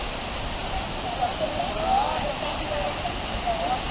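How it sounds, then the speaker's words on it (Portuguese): A waterfall, heard from nearly underneath it, pours as a steady, moderate broadband rush of falling water, continuous for a few seconds with faint background voices. "Ó, quase debaixo da cachoeira."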